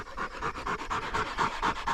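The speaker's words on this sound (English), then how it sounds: "As you can probably tell by the dogs panting, it's already gotten hot." Hunting dogs pant rapidly and rhythmically in the heat during an upland bird hunt, a close, steady string of breathy huffs with no other sounds.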